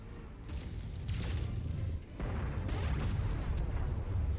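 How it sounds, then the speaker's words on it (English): Artillery fire in the mech combat game Mechwarrior 5. Heavy, rumbling booms come in overlapping waves with no break, and sharp cracking blasts land on top of a thick low roar. "Artillery."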